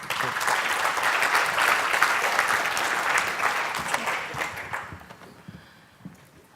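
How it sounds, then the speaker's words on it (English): A conference audience claps loudly and continuously for several seconds, the dense applause tapering off toward the end. "please give them a round of applause"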